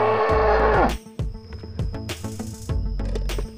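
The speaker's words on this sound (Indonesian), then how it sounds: "Ini kerbau toraja." A Toraja water buffalo moos loudly and close, one long lowing call followed by shorter grunting moos with an uneven rhythm.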